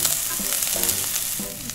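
Jjapagetti noodles frying in oil in a pot that burns in the middle, giving a steady close crackling sizzle with occasional stirring scrapes and no talk over it.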